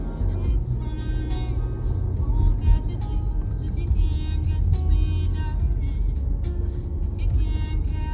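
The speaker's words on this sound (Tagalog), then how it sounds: "Ang dami sasakyan." Heavy road traffic with many cars, heard from inside a moving vehicle as a steady engine and road rumble with some higher whirring, loud and continuous with no talk.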